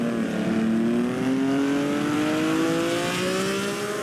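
A 1950 Grand Prix race car at the Pau street race accelerates up through the gears, its engine note climbing steadily in one loud sustained drone that stays near.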